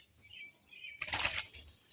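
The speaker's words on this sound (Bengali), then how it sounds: "এই দেখো একটা পায়রা এসছে" Pigeon flapping its wings on a rainy day, a single brief flurry of wingbeats rising out of quiet surroundings, faint and close, lasting about half a second.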